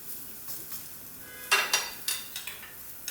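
A keto uttapam, a savoury pancake, is flipped and cooked in an oiled pan: soft stirring scrapes give way to a run of sharp utensil-on-pan clacks and a faint sizzle, close and alone.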